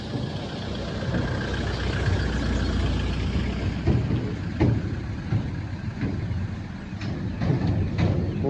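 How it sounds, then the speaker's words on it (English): Cars cross a newer road bridge beside an old iron suspension bridge in the Elan Valley, a steady low traffic rumble with several passing vehicles and occasional clunks as they roll over. "Plenty of cars coming over this one, second one now."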